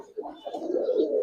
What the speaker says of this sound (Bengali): এটা আমার নিজের কবুতর ভাই